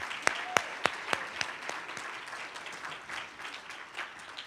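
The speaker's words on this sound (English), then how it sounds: "Another big round of applause, please." An audience at a chamber of commerce lunch applauds, with a few sharp, distinct claps at the start giving way to a fading patter of clapping from a modest crowd indoors.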